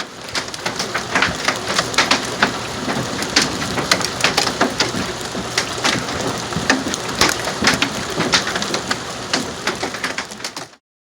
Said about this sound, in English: After a hot, steamy afternoon, we got a hailstorm later that day.